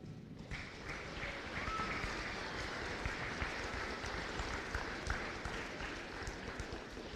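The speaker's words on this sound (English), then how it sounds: "Students, please turn and face your teachers behind you and give them a round of applause." Graduating students at a Red Oak school ceremony applaud their teachers, sustained crowd clapping in a large hall after a brief pause, fairly steady and moderately distant.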